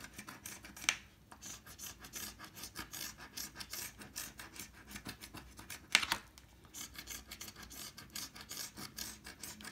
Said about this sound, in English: I do like how easy this ticket scratches.